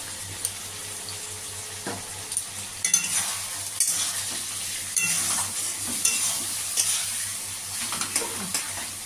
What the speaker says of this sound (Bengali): মশলাটাকে আমি কষে নেবো এখনও আমার মশলাটা আরেকটু কষবে